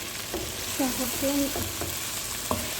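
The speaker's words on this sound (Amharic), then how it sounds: "ከዛ ቀጥዬ ድንችን እጨምራለሁ" Potatoes go into a pan of frying carrots, tomato and garlic, a steady close sizzle with a few stirring scrapes and a faint voice-like murmur underneath.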